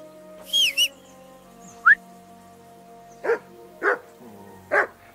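A hound barking and yowling in short separate bursts, a quick pair and then single calls spaced about a second apart, close and loud with no talking.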